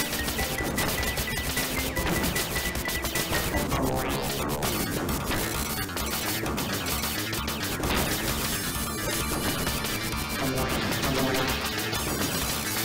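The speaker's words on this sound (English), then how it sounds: "I love how the tank's bullets just destroy everything." Dense, continuous barrage of tank gunfire and crashing impacts from the Gun Force arcade game, loud and unbroken with rapid overlapping shots and explosions over busy game music throughout.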